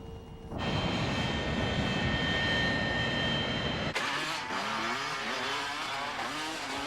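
A Boeing 747 airliner in flight gives a loud, steady engine roar that holds for several seconds, then shifts to a rougher, wavering tone.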